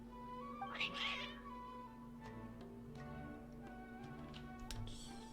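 Cats meowing in the video game Genshin Impact, one clear, loud meow near the start followed by fainter, scattered mews and small ticks over a steady electronic hum, with no talking.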